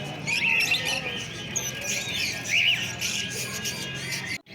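Finches and cockatiels chirp and squawk continuously at a busy pet bird market, overlapping high calls from many birds fairly close by, with a low rumble of crowd background beneath.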